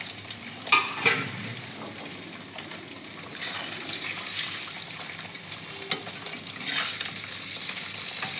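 Paneer frying lightly in a pan, a steady close sizzle with a few stirring knocks and scrapes, continuous throughout with no voices.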